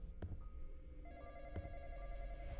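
A telephone rings inside the Roblox horror game Kittyland, a thin electronic ring repeating over a low, steady game background rumble.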